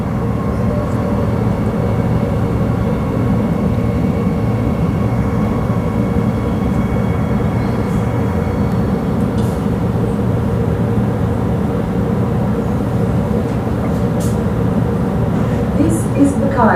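A Perth C series electric train on the Mandurah line gives off a steady, loud rolling rumble that holds without a break, with faint voices mixed into the background.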